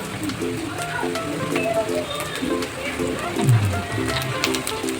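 Capsicum and onions fry in a pan with chilli for chowmin, giving a steady crackling sizzle that runs throughout while a voice talks over it.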